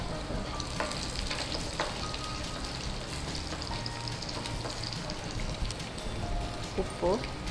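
Garlic fries in hot oil for a tempering, giving a steady, close sizzle with faint stirring and scraping throughout and a few brief clinks near the end.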